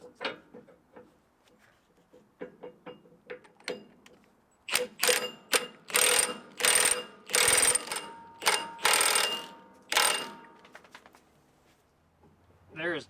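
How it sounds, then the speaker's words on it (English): A nut being tightened on a Caterpillar dozer part, likely with a ratchet: a close run of rapid metallic clicking strokes that grows louder and denser midway, then trails off into lighter clicks. "tighten the nut up, and then we put it back together"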